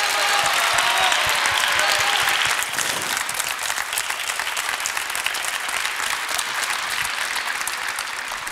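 A large audience applauds after a song performance at a televised music final, a dense, loud, continuous clapping that eases slightly after a few seconds.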